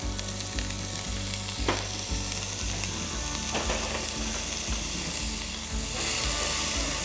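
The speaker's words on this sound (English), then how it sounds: "Let that oil heat up, and then we're going to get in our onions." Onions sizzle and fry steadily in hot olive oil in a pan, a loud continuous crackle with rhythmic low knocks of stirring throughout, no voices.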